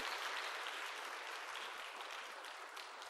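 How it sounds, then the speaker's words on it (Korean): A crowd applauds steadily at a church graduation ceremony, many hands clapping together in a dense, even wash that tapers slightly toward the end. "우리 박수로 축복하도록 하겠습니다."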